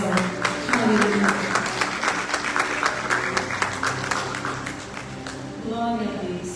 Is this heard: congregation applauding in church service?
yes